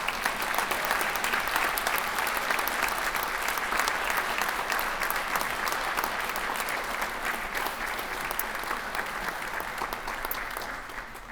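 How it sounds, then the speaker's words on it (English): Sustained applause from an audience honoring Vietnam veterans at a tribute event in Meriden, a dense, even roar of many hands clapping that continues for about eleven seconds before easing slightly at the end. "could we have a round of applause for our amazing veterans?"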